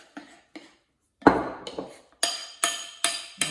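Banana bread batter stirred in a bowl: a spoon knocks and scrapes against the bowl in a series of sharp clinks and clanks, several evenly spaced strokes near the end, close and clear, with no voices.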